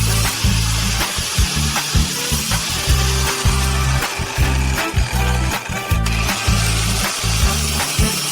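An angle grinder sharpens chainsaw chain teeth with light, careful touches, a close, loud mechanical whir broken into short repeated bursts as each tooth is ground in turn.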